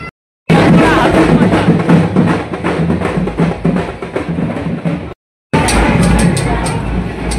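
Dense crowd hubbub at a Pola bull festival in Harsul, India, a loud continuous babble of many voices with brief dropouts near the start and end.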